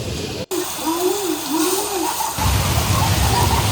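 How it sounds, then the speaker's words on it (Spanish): Rain falls on a street in Colón, Panama, a steady broadband wash with a rising engine-like tone in the middle and a heavier downpour toward the end. "Toda la gente arrancando de la lluvia."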